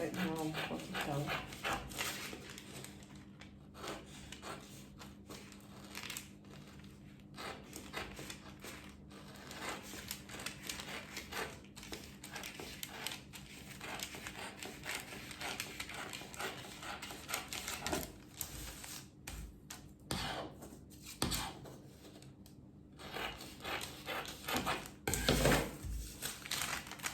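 Scissors snip and crunch through fabric while a bodice front panel is cut from a drafted pattern, with repeated close crisp cuts and rustling cloth throughout.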